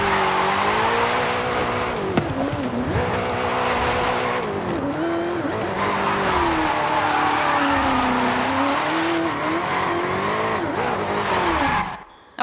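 Forza Horizon 5 car drifting on a Drift Club mission in Mexico, its engine note wavering loud and steady for about twelve seconds with high tyre squeal and skid running over it, then cutting off abruptly at the end.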